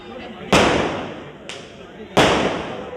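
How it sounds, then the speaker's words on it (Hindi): Firecrackers set off outdoors at a welcome for a BJP member of parliament in Vikhroli, Mumbai: two sharp, loud bangs with a smaller pop between them, each decaying into crackle, under crowd noise and speech. "पटाखे भी जलाए जा रहे हैं, फोड़े जा रहे हैं उनके स्वागत के लिए"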